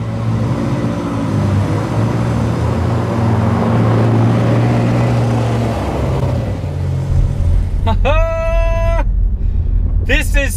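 A McLaren 720S drives home on the road behind a Ferrari F12 TDF, a steady loud engine and road rumble throughout, with a rising rev tone near the end.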